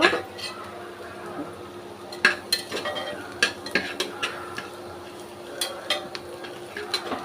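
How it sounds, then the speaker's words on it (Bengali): Spices, garam masala and onion fry in mustard oil in a cooking pot while a utensil stirs them, giving a soft steady sizzle broken by irregular close scraping clinks and taps against the pot's metal. "মশলা গরম মশলা আর পেঁয়াজ দিয়ে ভালোভাবে ভেজে নিচ্ছি"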